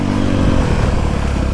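A 2022 Honda CRF250R dirt bike engine runs on a woods ride, a loud, close, continuous low rumble with a steady, slightly rough throb and no speech.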